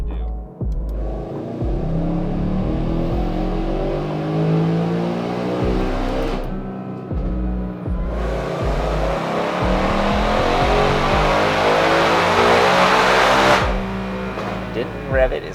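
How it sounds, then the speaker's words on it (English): A supercharged car is run on a rear-wheel dyno with the transmission in manual mode and traction control off. The engine revs loudly and up close, dips briefly partway, then climbs through a long sustained pull before cutting off abruptly. "Didn't rev it as high as I'd like, but we made 728 rear wheel horsepower, 599 rear wheel torque."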